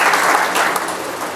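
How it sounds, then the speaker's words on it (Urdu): Congregation clapping loudly and steadily throughout a Sunday church service in Sahiwal, Pakistan, a dense wash of applause from many hands with no voices over it. "آئیے ہم خداوند کے جلال کے لیے زوردار تالیاں بجائیں گے"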